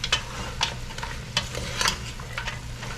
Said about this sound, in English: this is gonna start coating this meat and getting a nice fry on it